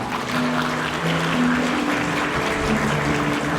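Wedding guests applauding at a Korean wedding ceremony, a sustained, moderately loud patter of many hands clapping, with faint tonal music or voices underneath.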